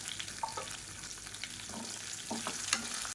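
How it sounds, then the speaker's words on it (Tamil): Pieces of ginger, whole shallots and garlic fry in hot oil in a pan, giving a soft, steady sizzle with occasional faint stirring clinks, heard alone and fairly quiet. "இப்போ இது எல்லாமே பொரிய ஆரம்பிக்குது."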